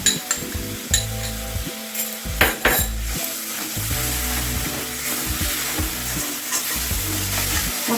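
Spice paste sizzles loudly as it fries in a pan for soybean curry, with continuous spoon stirring and scraping against the metal, close and without speech.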